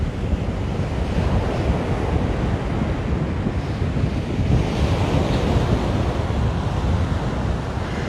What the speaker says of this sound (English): It is a little choppy with the wind, with the water, and today it is quite windy.